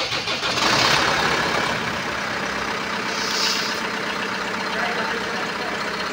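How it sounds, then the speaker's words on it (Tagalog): A Kia Sorento engine cranks and catches, then settles into a steady, close, mid-pitched idle. "paki-start mo nga yung sakyan, lagay mo sa drive"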